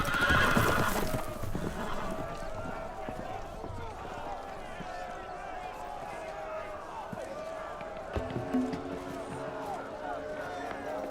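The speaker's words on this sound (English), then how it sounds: "The horses! They're loose!" Horses in a Game of Thrones video game whinny loudly and gallop off loose, a sharp neigh up front followed by a churn of hooves and commotion, with voices shouting over the scene.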